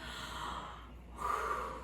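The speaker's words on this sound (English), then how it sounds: "take a deep breath in and take a deep breath out" A slow, deep breath drawn in and then let out during a children's Sunday school breathing exercise, close and soft, with the inhale and exhale as two long airy swells and no talking.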